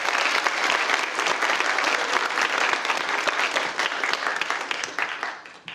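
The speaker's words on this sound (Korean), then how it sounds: "총장님께 박수 한번 다시 쳐주십시오." Warm applause from the audience at a university nursing pledge ceremony honours the president, many hands clapping steadily for several seconds before tapering off at the end.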